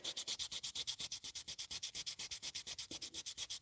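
Rapid back-and-forth sanding on a scale model Nissan Z body, a steady run of about thirty quick, even rasping strokes, close and fairly quiet with no talking.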